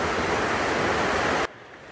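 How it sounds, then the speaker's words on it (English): Big waterfall in the South Carolina Appalachian Mountains, a loud, steady broadband rush of falling water that cuts abruptly to a quieter roar partway through. "take a look at a big waterfall here."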